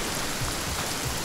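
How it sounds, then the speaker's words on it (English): Rain from a scroll of rain spell in the video game Divinity: Original Sin falls as a steady, soft hiss, brief and even. "I used my scroll of rain to put out the fire on the boat."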